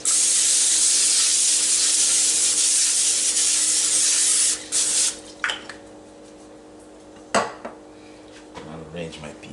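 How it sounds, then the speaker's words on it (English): Cooking spray hisses in a long, steady, bright burst onto a foil-lined baking pan, then stops, followed by a few foil crinkles and light clatters close by. "Use some cooking spray on that."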